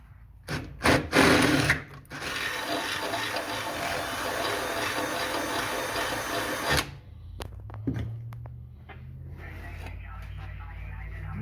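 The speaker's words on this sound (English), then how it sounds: "Yeah, I have to drill this one up once more." A drill bores a larger hole in a bracket for a dual-band stub J-pole antenna, giving a loud, steady grinding whine for several seconds after a few short bursts, then tapering into quieter handling noise.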